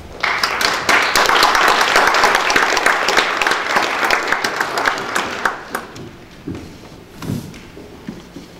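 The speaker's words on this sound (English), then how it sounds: "Let's give them a round of applause." Church congregation applause: a loud, dense burst of many hands clapping that thins over several seconds into a few scattered claps and soft knocks, with no talking.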